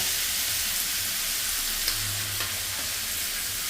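Potatoes frying in a pan while ginger paste is stirred in give a steady, close sizzle with a constant bright hiss and faint scraping of the stirring utensil throughout.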